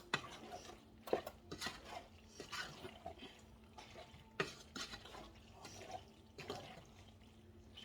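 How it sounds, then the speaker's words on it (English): Mac and cheese ingredients are stirred with a wooden spurtle, giving repeated scraping and knocking strokes against a pot in an irregular rhythm, close and moderately loud, with no talking. "I just go in and I stir all of this around."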